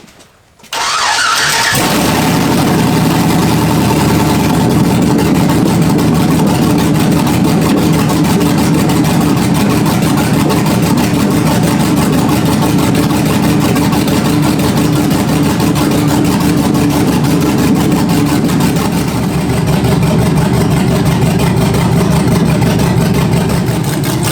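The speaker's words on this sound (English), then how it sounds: "I do want to start it with open headers, so we'll see what it sounds like." A car engine with open headers and no exhaust fires up after a brief moment of quiet, then runs loud and raw with a deep, rough, rumbling idle that stays steady and close for over twenty seconds.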